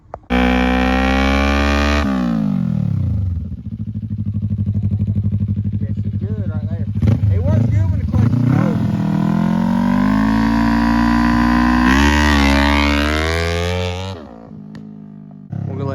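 A motorcycle on a slick, wet road runs loud and close, its engine note rising and falling through revving shifts and gear changes, with a brief quieter dip midway and a final easing off.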